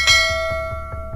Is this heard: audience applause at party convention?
no